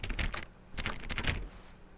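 Computer keyboard typing in the video game The Stanley Parable, two quick bursts of rapid, fairly close key clatter separated by a brief pause, then fading to quiet hum.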